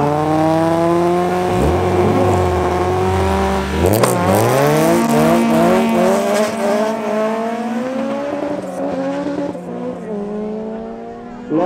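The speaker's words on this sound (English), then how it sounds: "VTEC is out in front. Honda having a good time out there." A Honda VTEC car drag races on an abandoned airstrip at Zeerust Airfield in North West, its loud engine revving hard and climbing steeply in pitch through repeated gear changes, close and continuous throughout.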